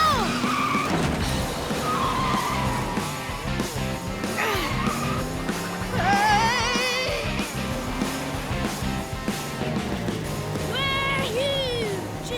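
Cartoon trucks racing each other, with a steady engine roar and skidding tire squeals under music and animated character voices throughout.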